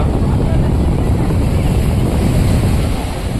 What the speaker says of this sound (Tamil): காற்று நல்லா அடிக்கிறனால